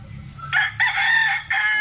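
A rooster crows loudly and close by, one long strained call broken into a few bursts, with faint low background noise beneath.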